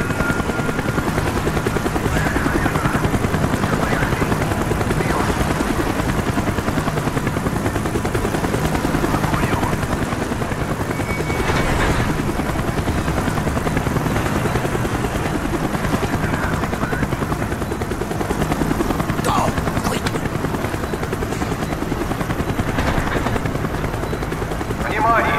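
A helicopter in the Call of Duty: Black Ops game thrums steadily and loudly throughout, with bursts of gunfire and battle noise layered over it.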